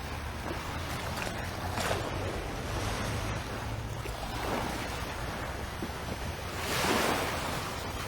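Ocean waves washing onto a beach in Barbados at daybreak, with soft surf swells rising and falling under steady wind noise, fairly faint and without talk.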